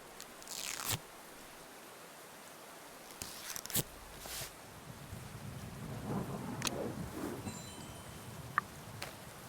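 Rain and rumbling thunder in a video game, a steady wet hiss with low rolling rumbles and a few sharp cracks and bursts scattered across the clip, no voices.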